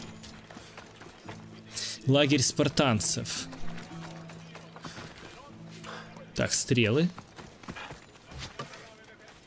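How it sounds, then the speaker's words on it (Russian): Horse hooves in the Assassin's Creed Odyssey video game, two bursts of galloping clip-clop footfalls a few seconds apart, loud and close, with someone talking over the game sounds. "Лошадка."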